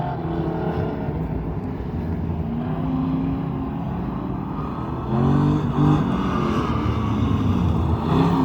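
A Classic Muscle Pro race car passing on a lap at a drag racing event, a loud continuous engine roar heard from a distance that swells slightly as it comes through, with no talking.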